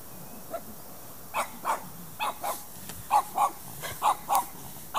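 A dog barks in a series of short, sharp yaps, roughly a dozen, evenly spaced over a steady background hiss.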